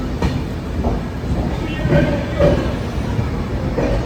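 Okha Rameswaram Express standing at Jalna station's platform 1, a loud steady low rumble of the train with faint clanks and squeaks, set against a busy platform murmur.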